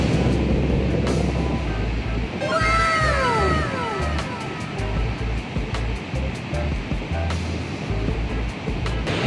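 Niagara Falls thunders as a steady, loud, broadband roar of falling water throughout, with a cat's meow-like cry rising briefly near the start.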